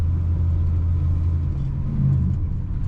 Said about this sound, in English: Today we're driving a 1964 Chevrolet El Camino